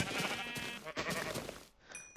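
Sheep in Minecraft bleating, two short wavering baas close together, followed by a soft chime at the end, with no talking.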